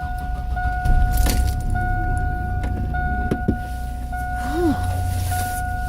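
Keys jangle briefly inside a truck cab on a cold winter day, over a low idling hum with a steady electronic tone running beneath.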